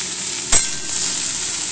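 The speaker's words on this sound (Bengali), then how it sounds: "এখন হচ্ছে ভিন্ডি ভাজা" Okra (bhindi) fries in a pan with a steady, loud hiss of sizzling oil, broken once by a short stirring scrape; no talking.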